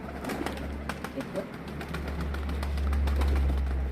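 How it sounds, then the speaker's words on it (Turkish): Adana pigeons coo softly and flap their wings as they arrive, with a steady low hum running beneath the birds. "öbür yavru da geldi. Beyazlı Arap'ın yavrusu da geldi"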